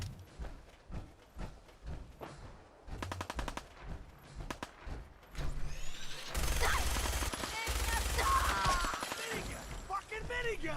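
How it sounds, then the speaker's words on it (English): A minigun fires in the Fallout 4 video game, long rattling bursts of rapid shots that follow earlier single gunshots, loud and dense, with someone talking excitedly over parts of it. "Minigun! Fucking minigun!"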